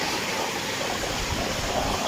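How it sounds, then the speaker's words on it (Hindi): Water pours steadily from the channel of a water-powered flour mill (pan chakki) in Lora, Murree, a continuous close rushing wash with no pauses. "ये पानी यहाँ से गिर रहा है नीचे"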